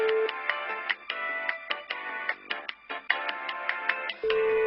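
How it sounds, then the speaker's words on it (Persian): Telephone ringtone on an outgoing call in an animated political satire, a rapid electronic warbling tone repeating in short bursts with brief gaps, loud and close, with no talking over it. "زود باش احمدی نژاد رو برام بگیر"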